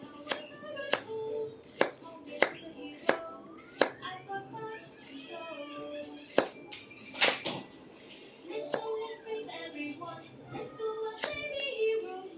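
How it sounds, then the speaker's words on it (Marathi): A kitchen knife slices an onion on a cutting board, with a run of sharp, evenly spaced chops followed by more irregular cuts. Someone talks quietly over part of the chopping. "अजून एखादा कांदा कट करून दाखवते"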